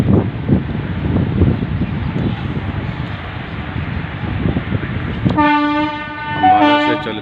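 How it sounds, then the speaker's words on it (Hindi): The Ambala Intercity Express, superfast train 14522, rumbles past loud and close with wind buffeting, then sounds a long blaring horn near the end. "ये ट्रेन, इस ट्रेन का नंबर 14522 है, जो कि डेली चलती है और ये सुपर फास्ट ट्रेन है।"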